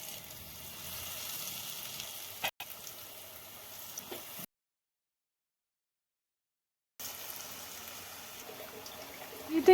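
Lotus stem slices deep fry in a kadai of hot oil, a steady crackling sizzle that runs on, then drops out to silence for a few seconds before resuming.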